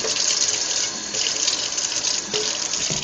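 Water runs steadily from a tap into a can that held beans, a continuous splashing hiss with a couple of brief pauses, close and fairly loud.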